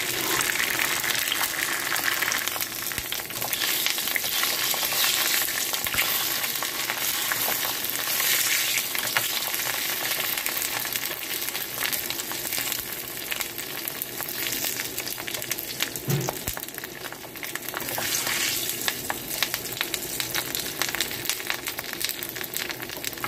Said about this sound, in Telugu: ఇప్పుడు పొయ్యి మీద ఆయిల్ వేసాను,